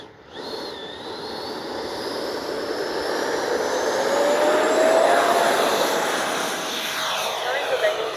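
A Freewing MiG-29 Fulcrum twin 80mm electric ducted-fan RC jet rolls down a 210-foot runway for takeoff without flaps, its steady high whine rising and building in loudness over several seconds with a sweeping tone.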